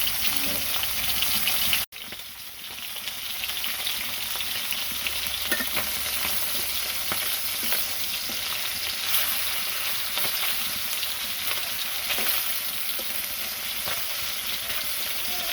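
Pieces of bony fish fry in hot oil in a pan, a long, even sizzle heard up close that dips briefly near the start and then carries on with occasional faint stirring taps.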